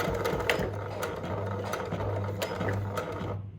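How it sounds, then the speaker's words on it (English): A sewing machine stitches and back-stitches bias binding onto a jacket, its motor buzzing steadily with a fast rhythmic mechanical clatter up close, then it stops abruptly at the end. "and I'll back stitch"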